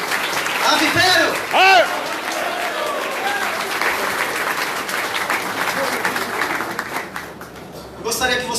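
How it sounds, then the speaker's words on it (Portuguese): An audience applauds after a talk, a continuous bed of crowd clapping with loud whoops and cheering voices rising over it near the start and again at the end. "Aplaudir, gente? Vamos aplaudir!"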